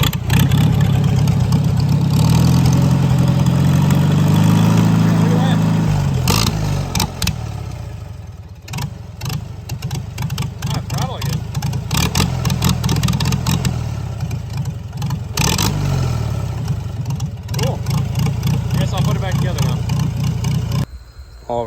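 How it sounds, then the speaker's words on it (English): A Farmall Super C tractor engine in neutral runs loud and close, idling with a rough clatter, then revving up and dropping back several times in uneven bursts. "Tractor's in neutral, it's in idle."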